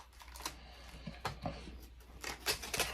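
A kitchen knife cuts away the core of produce while cooking fried beef wontons, giving several short, close crunching and slicing strokes at an uneven rhythm against a quiet room.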